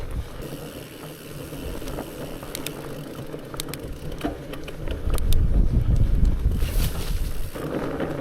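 Wind buffets the microphone while mountain biking along a track on Scotland's Southern Upland Way, a steady rumbling roar that grows stronger and gustier partway through.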